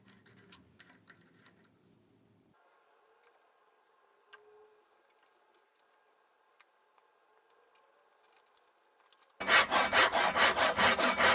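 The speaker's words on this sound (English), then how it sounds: "I had some rip cuts to do on a few of them" Hardwood scraps being rip cut with a saw, heard near and loud as a fast, regular stroke-by-stroke rasp that begins suddenly near the end, after a long stretch of faint clicks and quiet handling.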